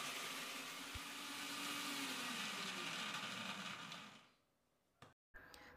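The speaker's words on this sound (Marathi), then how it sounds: "आता हे आपण मिक्सरला फिरवून घेऊयात." A mixer grinder whirring as it grinds a wet spice paste with a little water, a steady motor drone for about four seconds that then cuts off, followed by brief clicks.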